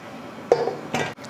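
Metal clanks and scrapes as a pressure cooker lid is set and fitted on, two distinct clattering knocks close by over a faint background hiss, while cooking mutton kulambu.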